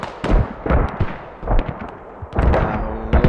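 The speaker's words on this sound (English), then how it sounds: "And here come mortars back on people's heads again." Mortar shells land repeatedly in a Squad match, a rapid series of heavy booming explosions and sharp impacts arriving in uneven clusters, loud and close with rumbling tails between hits.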